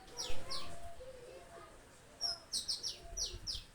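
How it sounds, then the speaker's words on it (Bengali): Birds chirp and tweet outdoors in Pabna, Bangladesh, in short high bursts, first a pair of calls and then a rapid cluster of faint, fairly close chirps over quiet background noise. "আপনাদেরকে একটু পাখির গান শোনায় দিলাম।"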